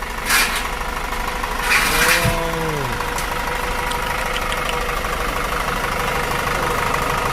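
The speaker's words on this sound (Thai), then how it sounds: "เครื่องเทอร์โบ WO4D เทอร์โบนะครับตัวนี้" A Hino WO4D turbo diesel engine idles in a minibus, giving a steady, loud rumble throughout. A brief tonal sweep is heard early on.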